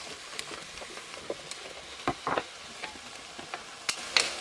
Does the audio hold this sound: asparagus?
yes